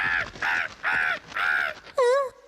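A cartoon crow caws four times in a steady rhythm, each call harsh and drawn out, followed by a sharper, wavering squawk, loud and close with no talk.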